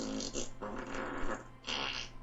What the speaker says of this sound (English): 10 farts coming your way.